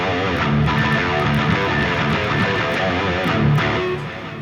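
Electric guitar played through a Harley Benton DNAfx GiT Pro multi-effects unit on a shred preset: a dense, saturated, loud distorted riff with rapid picked notes and no talking.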